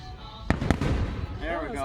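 A firework display gives two quick, loud bangs in succession, then a voice exclaims close by.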